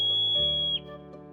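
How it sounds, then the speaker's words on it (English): A steady, piercing high-pitched alarm whistle from an Alpine mountain animal holds for nearly a second, then drops away abruptly, leaving a faint tail in open air. "It possesses an impeccable alert system, emitting a high-pitched whistle that can be heard from a distance of more than 500"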